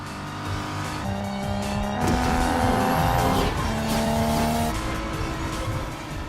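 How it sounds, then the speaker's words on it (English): Street race cars charging up a bridge on nitrous, a loud engine roar climbing in pitch with a sustained high whine and some tire squeal, a second engine rising in the middle before the sound eases off. "Spitting flame, Slapjack pulls away from Brian. He races up the bridge. Brian accelerates."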